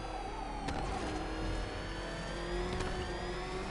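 Batmobile driving in Batman Arkham Knight, a steady whining engine drone with rising pitch and a couple of sharp impact thuds, loud and continuous with no speech.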